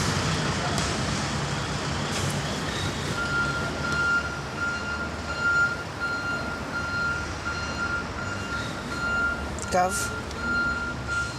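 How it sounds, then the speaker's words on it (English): A truck pulls up with its reversing alarm sounding a steady series of evenly spaced beeps over rumbling engine and traffic noise, with a brief voice and a short metallic clatter near the end. "Here comes the truck."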